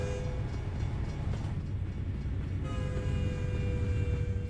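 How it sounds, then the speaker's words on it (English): In American Truck Simulator, a train rolls past with a steady low rumble and a faint tonal whine, loud and continuous throughout with no talk. "We're gonna see a train."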